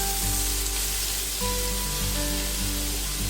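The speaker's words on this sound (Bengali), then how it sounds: "এখন আমি তাওয়াতে 1 চামচ তেল দিয়েছি, তাতে আমি অ্যাড করে দিচ্ছি গ্রেট করা গাজর" Grated carrot sizzles in a spoonful of hot oil on a tawa, a loud, steady, close frying hiss with a faint tonal hum beneath.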